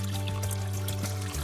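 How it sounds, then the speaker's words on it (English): Water poured down a household drain during a plumbing check, a continuous close splashing gurgle over a steady low hum, with no talking. "we're gonna take some water and pour it down that drain"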